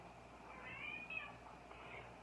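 A house cat gives one short meow, faint and somewhat distant, over a quiet background hum indoors.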